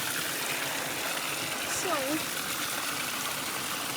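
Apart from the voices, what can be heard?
garden water fountain refilling itself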